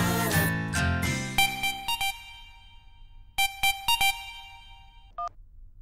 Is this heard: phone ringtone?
yes